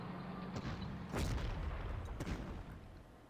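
Artillery strikes on an enemy unit in the Panzer Corps wargame, set at Stalingrad, two or three muffled booms with a low rumble, fairly quiet, no voices.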